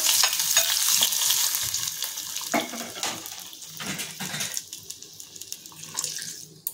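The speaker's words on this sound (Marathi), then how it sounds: "तेल गरम करून घेतलेलं आहे आणि बारीक करून घेतलेला लसूण, त्याचा आपण याला मस्त तडका देणार आहोत।" Finely chopped garlic dropped into hot oil as a tempering for Korean chilli garlic potatoes, a loud sizzle at first that fades into softer crackling, with scattered clinks and scraping of stirring.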